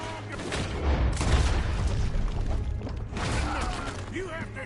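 Gunfire in a Red Dead Redemption 2 town shootout, a dense barrage of overlapping shots and booms under shouting voices, loud and continuous throughout.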